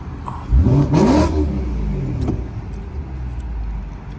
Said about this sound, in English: Give them a little rev.